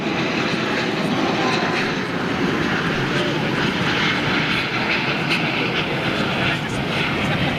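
A British Airways Airbus A330 jet lands at Heathrow, its engines producing a loud, steady broadband roar with hissing and rumbling layers that fills the whole stretch at close range.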